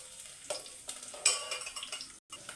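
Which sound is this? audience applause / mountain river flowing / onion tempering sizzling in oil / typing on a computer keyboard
onion tempering sizzling in oil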